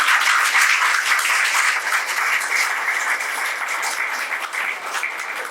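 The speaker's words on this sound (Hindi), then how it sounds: "तालियों से स्वागत करिए बच्चे का।" Audience at a student awards ceremony applauding as a student is welcomed onto the stage, a dense, steady wash of many hands clapping, loud and sustained before easing slightly.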